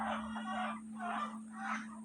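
Tiger breed chickens cluck in three rhythmic bursts, fairly close and clear over a steady low background hum.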